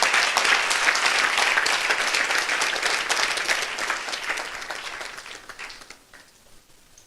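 A church congregation standing to acclaim the Lord breaks into sustained, dense applause, loud and continuous at first, then gradually thinning and fading toward the end.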